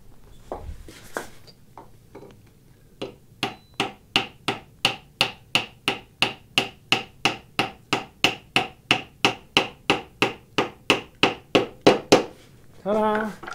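Hammer driving an epoxied saw handle down onto a turning saw, around thirty steady sharp knocks at an even quick rhythm, close by, with some brief handling noise before and at the end.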